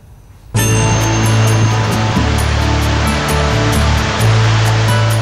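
The Beas river rushes through a mountain valley in Himachal Pradesh, a loud, continuous roar of turbulent water that starts abruptly and holds steady throughout, with no voices.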